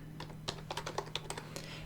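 Keys clatter on a computer keyboard while a formula is entered into a curve-fitting spreadsheet, an irregular run of close, crisp clicks and taps with brief pauses between them.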